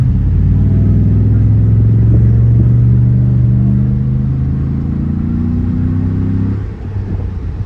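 A Cadillac Escalade's engine revs with a deep exhaust drone through a Magnaflow muffler, climbing in pitch as it accelerates, then easing off near the end; windows down.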